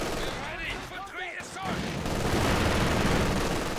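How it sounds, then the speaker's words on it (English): Rifle fire from conscript and Grenadier squads in the World War II strategy game Company of Heroes 2, rapid overlapping shots in a dense crackling volley that swells toward the end, with a commentator talking over it. "look at all those conscript shots"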